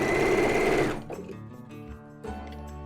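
A sewing machine runs fast for about a second while stitching fabric appliqué onto ruching, then stops, leaving faint mechanical clicks and a brief low thump.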